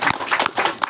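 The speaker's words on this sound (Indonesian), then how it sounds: "Tepuk tangan." Audience hands clapping at a village farmer training session on integrated rice pest control, a group clapping in a brisk, patterned rhythm, close and moderately loud, with no talk.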